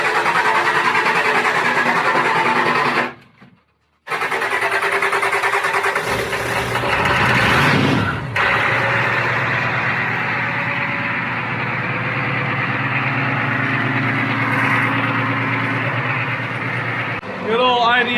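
An IDI diesel engine in a used off-road truck cranks from cold, stumbles, catches and then settles into a loud, steady clattering idle up close, with a voice speaking over it.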